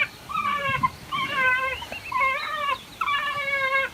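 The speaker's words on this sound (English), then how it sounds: "the wild dog pack sees it as a threat, so they push the crocodile back to where they believe it belongs" An African wild dog pack harassing a Nile crocodile gives repeated high, bird-like twittering calls and yips in overlapping bursts, fairly close over a noisy outdoor background.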